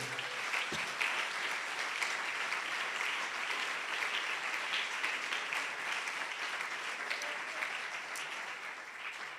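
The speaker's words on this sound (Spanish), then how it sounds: "Dele ese aplauso al Señor." A church congregation applauds during a Spanish-language sermon on worship: dense, sustained clapping from many people fills the room evenly for over nine seconds without letting up, with no voices on top.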